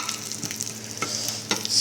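A generous amount of onion frying in oil, a dense steady sizzle with light crackles and a couple of stirring scrapes, close and uninterrupted, with no one speaking.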